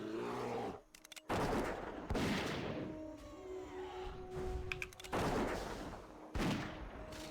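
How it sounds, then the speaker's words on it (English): Gunshots from a hunter's gun in World of Warcraft while fighting boars, sharp repeated blasts in bursts a second or so apart, loud and close over a busy game soundscape with sustained tones. "if I find a better gun, then I'm just gonna have to hear the gunshots forever"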